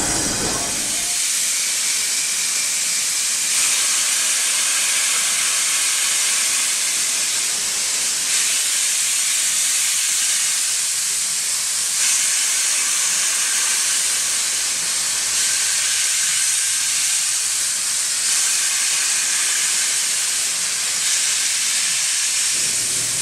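Steady loud hiss of steam at a heritage railway in the Lake District, a constant broadband rush with faint rumbling underneath and no voices.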